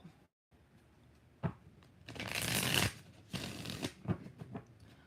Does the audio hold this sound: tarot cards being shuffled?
yes